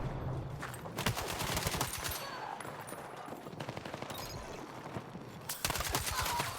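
Sustained exchange of automatic rifle and machine-gun fire in a Battlefield 6 gunfight, rapid bursts rattling back and forth with brief pauses, close and loud throughout.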